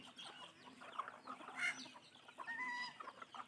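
Chickens and their chicks cluck and peep in a farmyard with geese nearby, a busy mix of short, close calls rising and falling over about three and a half seconds.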